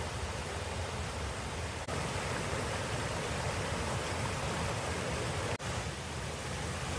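Water pours over the weir at Rishworth Mill, a steady broadband rush of falling water heard close and alone, with no voices.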